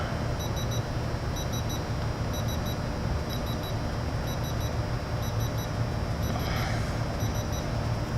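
Regular pairs of high electronic beeps from a Mastercraft 1/2-inch digital torque adapter repeat about once a second over a steady mechanical rumble, continuing throughout.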